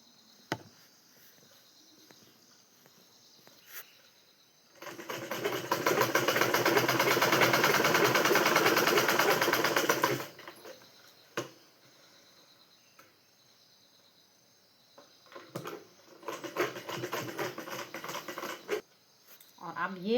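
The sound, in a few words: sewing machine stitching a trouser pocket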